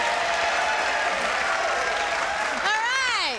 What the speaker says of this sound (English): I want to hear some nice cheering.